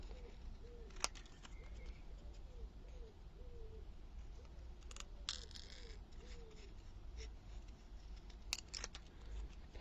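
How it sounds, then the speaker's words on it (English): Pigeons coo repeatedly from a roof, soft rounded calls in a steady series against a quiet hum, with a few sharp clicks in between. "Pigeons back on my roof, he's shouting."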